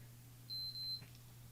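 A digital thermometer from a first aid kit gives a single steady high electronic beep lasting about half a second, clear and close against a quiet room with a low hum.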